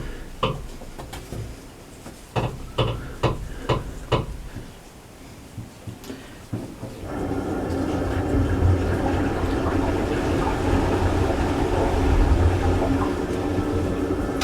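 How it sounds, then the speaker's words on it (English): Water runs steadily from an upstairs shower through the ceiling, a continuous broad hiss that starts partway through after a series of sharp knocks and clicks and then stays fairly loud to the end. "Sorry if you can hear weird water noises. The guy upstairs might be having a shower."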